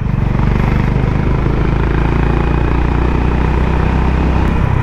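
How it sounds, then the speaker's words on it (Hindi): A Honda Highness CB350 motorcycle engine runs while riding, a loud, close, steady low rumble with a continuous throb and no voices over it. "ये बाइक क्या आवाज़ प्रोड्यूस करती है यार"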